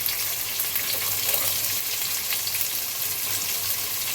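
Sliced onion hisses and sizzles steadily in hot oil in a pan while chicken curry is being made, a dense, even frying crackle at close range with faint stirring and no talking.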